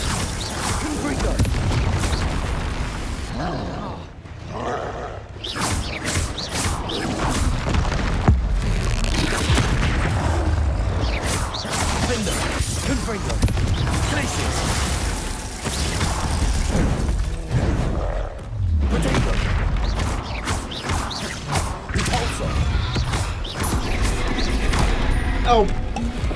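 Confringo spell blasts in a Harry Potter video game go off as repeated booming explosions and crashes amid other spell effects, loud and close, with people talking and exclaiming over much of the action.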